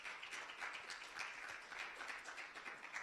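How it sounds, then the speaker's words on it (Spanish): A church congregation applauding the Lord, a continuous, fairly distant wash of clapping from many hands, steady and even throughout. "Dale un fuerte aplauso al Señor"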